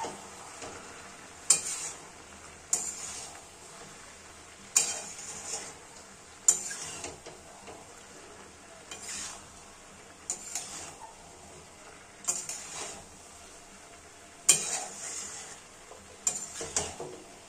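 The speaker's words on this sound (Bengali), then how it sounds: "কুচি টমেটোগুলো সব কিছুর সাথে ভালোভাবে মিলিয়ে মিশিয়ে নেব" A spoon scrapes and stirs chopped tomatoes into chicken in a frying pan, giving repeated sharp scraping strokes every second or two over a soft, steady sizzle, with no voices.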